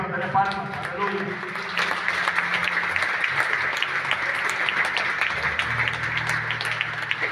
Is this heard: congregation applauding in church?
yes